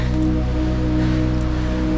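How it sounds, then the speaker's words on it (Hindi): Heavy rain falling steadily in the mountainous Taip Banda area of Pakistan, a loud, constant dense patter with no breaks, close and enveloping throughout. "अभी बारिश शुरू हो गई है"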